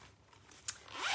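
A zipper on a velvet makeup bag being opened, a faint brief click followed by a short rasping pull that grows slightly louder, close and quiet with no talk.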